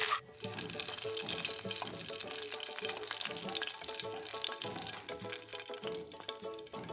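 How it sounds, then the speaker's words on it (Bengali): A fish head frying in oil in a home kitchen pan, a steady close crackling sizzle that runs throughout with small bursts and spatters. "আর এই যে এখানে মাছের মাথাটাকেও আমি ভেজে নেব।"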